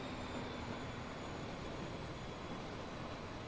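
A train departing in the video game Transport Fever 2, a steady, even rumble of engine and rolling wheels that holds at a constant level throughout.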